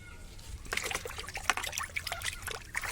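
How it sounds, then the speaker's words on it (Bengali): A spoon being washed with soap under running water at home, with a steady trickle and splashing close by and intermittent clinks and scrubbing. "তো চলো ধুয়ে নিয়ে সাবান করে। চামচটা ধুয়ে নিই"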